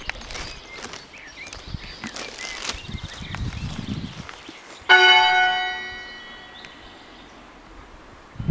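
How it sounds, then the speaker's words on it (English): A single church bell at St Andrew's Church in Grinton, Yorkshire Dales, struck once during testing: a sharp, loud ring that hums and decays over several seconds after faint background movement. "Testing the bell."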